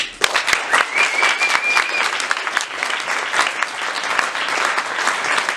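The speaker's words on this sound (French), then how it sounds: "Je vous demande d'applaudir comme il se doit pour introduire cette première soirée, Monsieur François Angelier" Festival audience applauding in a hall at L'Étrange Festival, a dense steady wash of many hands clapping throughout, fairly close and loud, with a brief faint whistle early on.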